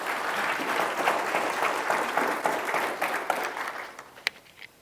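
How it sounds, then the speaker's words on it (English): Several seconds of applause for panelists at a community forum on a state constitutional amendment, with dense clapping from the room that thins out toward the end, leaving a few last scattered claps. "Let's give them a round of applause"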